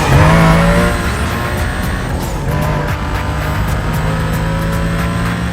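Race car engines roar in a long sprint race in the video game Need for Speed: Most Wanted, a loud sustained whine with shifting pitch, tire squeals and skids over steady driving noise.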